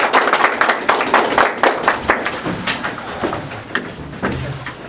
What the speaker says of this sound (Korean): 다 같이 박수로 마치겠습니다.